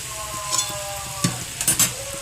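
Potatoes for a simple aloo chochchori sizzle in a hot pan. Several quick stirring scrapes and clinks of a spatula cut through the steady, close frying hiss.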